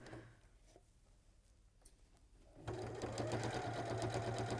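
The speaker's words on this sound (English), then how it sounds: "You just sew on the line you've drawn right to the top." A domestic sewing machine stitches fabric along a drawn line, starting after a quiet pause and then running in a fast, even, close mechanical patter until the end.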